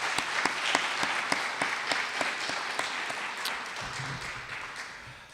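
Applause from a small handful of people at a concluding plenary session, steady dense clapping held at a moderate level throughout, with no voices over it.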